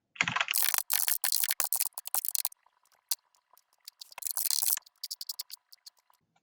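Fast typing on a computer keyboard, dense bursts of clicking keystrokes up close, a pause with a few scattered taps, then another rapid burst and trailing individual key presses, with no one talking.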